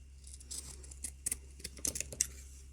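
Scissors snipping around the edges of felt for a punch needle avocado hair clip, a quick run of close, crisp cuts over a faint low hum.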